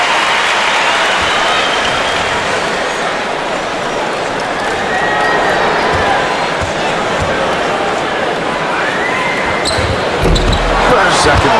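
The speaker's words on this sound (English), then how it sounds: "He gets a nice round of applause." Basketball arena crowd at a Bulls home game against the Nuggets applauds steadily as a substitute leaves the floor, a broad, continuous roar with scattered claps and bounces beneath, and an announcer talking over it throughout.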